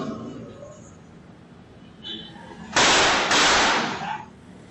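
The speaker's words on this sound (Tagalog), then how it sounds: "Dalawang putok ng baril ang umalingaw-ngaw sa bahagi ng Zapote Street" Two sharp gunshot bursts ring out close together on Zapote Street in Makati City during a morning shooting, loud and broadband against quiet background noise.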